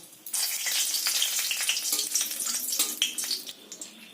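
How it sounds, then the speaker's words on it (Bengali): A bay leaf and a dried chili hit hot oil for tempering, giving a bright, crackling sizzle that flares up and then settles over a few seconds, close and steady. "ওই তেলের মধ্যে দিয়ে দেব একটা তেজপাতা ফোড়ন আর একটা শুকনো লঙ্কা ফোড়ন"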